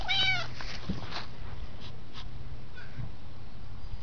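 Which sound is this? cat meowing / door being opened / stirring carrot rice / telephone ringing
cat meowing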